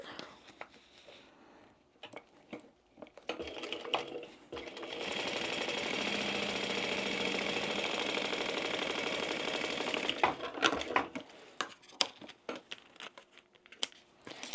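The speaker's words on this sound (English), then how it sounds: "open that up and top stitch on the base side" A sewing machine top stitches the base of a glitter-filled zip pouch in a steady whirring run lasting several seconds, framed by quiet handling noises, rustles and soft voices before and after.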